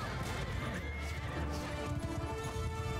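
Horses neighing and hooves clip-clopping in a Mount & Blade II: Bannerlord cavalry battle, whinnies repeating over the game's battle din, with a voice talking faintly underneath.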